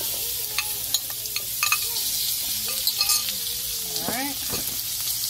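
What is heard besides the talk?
garlic potatoes sizzling on a griddle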